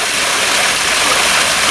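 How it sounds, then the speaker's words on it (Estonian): Very hot water gushes steadily into a hot spring pool, a loud, close, unbroken rushing wash with no talking. "Tulikuuma vett tuleb juurde."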